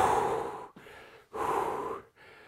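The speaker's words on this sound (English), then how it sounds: "Catching your breath." Heavy, rhythmic breathing of someone catching their breath after a workout set, two long loud gasping breaths close to the microphone with brief pauses between, no talk.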